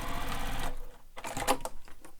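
A sewing machine re-stitching the seam of a handmade leather wallet: a close, steady mechanical whir for under a second, then a few quieter stitching pulses and clicks.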